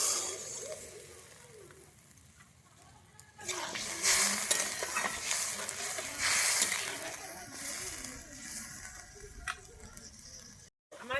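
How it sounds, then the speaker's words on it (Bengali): Water goes into a hot, sizzling pan while rohu fish kalia cooks; a quiet stretch of soft stirring gives way to a louder, sustained broadband hiss and bubbling that fades toward the end. "আমি এবারে জল দিয়ে দিচ্ছি আমার"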